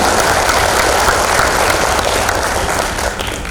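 An audience at a scholarship handover ceremony in Kediri claps in a dense, steady burst of applause that fades slightly toward the end.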